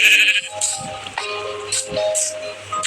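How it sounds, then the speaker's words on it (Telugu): A Minecraft goat bleats a few times against soft background music and scattered game sound effects, the cries short and nasal. "మేకపిల్ల"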